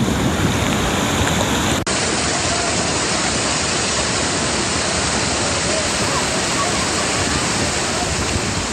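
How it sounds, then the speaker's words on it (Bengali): Storm surf driven by Cyclone Remal pounds the Bangladesh coast, a loud unbroken roar of waves and wind that fills the whole stretch, with one brief break early on. "দিনভর গর্জন তুলে বড় বড় ঢেউয়ের হুঙ্কার জানান দেয় রেমালের তেজ"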